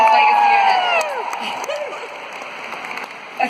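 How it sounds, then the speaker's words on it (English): An audience at a stage event breaks into a loud, dense round of applause with rising whoops and cheers, fading a little as the clapping continues. "You guys give them a round of applause"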